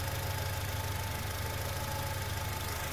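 A 2006 Acura TSX with six-speed manual idles steadily, its low even hum constant and close throughout with a faint mechanical buzz, no talking.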